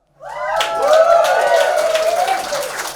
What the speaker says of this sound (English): What, we're clapping people being cowards now, are we?